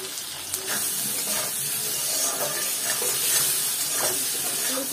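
Potatoes fry with turmeric and salt in an oiled pan, giving a steady, close hiss and sizzle with faint stirring scrapes throughout, under quiet background sound.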